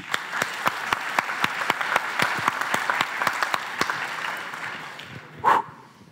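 An audience at a conference closing claps in a lively, even patter for several seconds, then the applause thins out and a brief louder sound stands out near the end.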